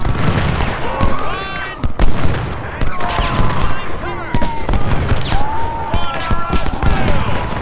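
Artillery fire in Ultimate General: Civil War during the Battle of Antietam: repeated sharp cannon booms at irregular intervals amid a busy battlefield din, with talking at times.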